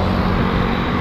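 Airplane taking off near KLIA airport, a steady, loud broadband engine roar that fills the whole moment without a break, with no speech over it.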